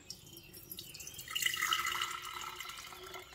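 Blended sugarcane juice pours through a strainer, a soft trickling and dripping of liquid that swells in the middle and continues steadily.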